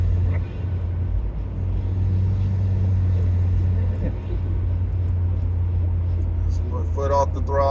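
Steady low engine drone inside the cabin of a 2009 Acura RDX cruising in sport mode in 5th gear, a constant hum with road noise under someone talking.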